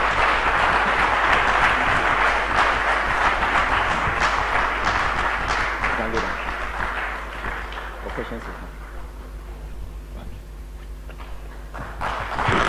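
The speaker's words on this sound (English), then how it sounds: "a bigger round of applause for him" Audience applause at a live Ghanaian nation-building economic update event, dense sustained clapping that is loud at first and then gradually thins and fades, with a steady low hum underneath.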